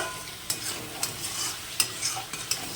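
A spice paste of cashews, melon seeds and poppy seeds for shahi paneer is stirred in hot oil, with a soft continuous sizzle broken by sharp scrapes of the spoon against the pan.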